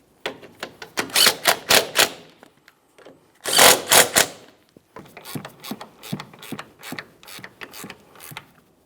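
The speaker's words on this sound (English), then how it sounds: "Now we'll bottom out each one of these three mounting bolts" Ratchet clicks as strut mounting bolts are bottomed out on a 2012-2018 Nissan Altima, close bursts of rapid clicking, one longer harsh burst like a power tool in the middle, then slower clicks.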